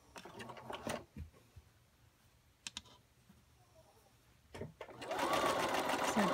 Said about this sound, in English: So just sew all the way through